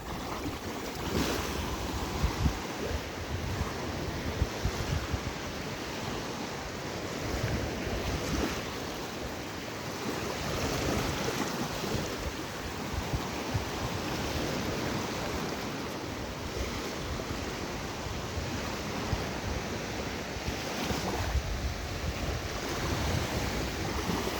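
Sea waves wash onto a wide beach at Prymorsk in the Odesa region, a steady broad surf roar mixed with wind buffeting the microphone, continuous and fairly loud with no voices.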